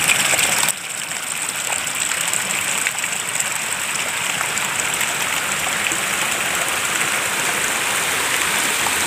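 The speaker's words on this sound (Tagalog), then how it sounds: "maliit na talon" A small waterfall pours steadily outdoors, a loud, continuous broadband rush of falling water with no pauses and no voices.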